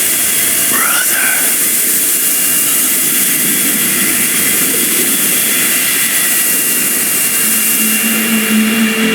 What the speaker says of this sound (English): The Don's cargo plane is about to take off.